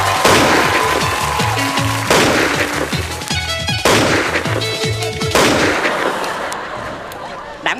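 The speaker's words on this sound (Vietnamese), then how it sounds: "Bắn quá trời, thằng nào trúng đạn vậy?" Repeated loud gunshots crack out in quick bursts at close range, with sharp echoing reports over several seconds in a comedy sketch scene.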